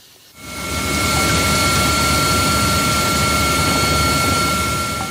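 Inside a helicopter flying over the Niger Delta, a loud, steady cabin roar of engine and rotor starts abruptly, then holds constant with a faint, even whine underneath.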